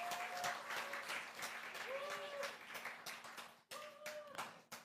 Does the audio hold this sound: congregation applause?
yes